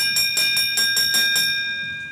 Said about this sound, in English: Coming up to the bell